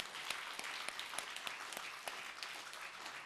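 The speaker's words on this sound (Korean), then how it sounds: "그분을 향해서 감사와 영광의 박수를 올려드립니다" A Korean church congregation claps during a Sunday worship service, a faint, distant patter of many hands with scattered sharper claps, continuous and fairly even throughout.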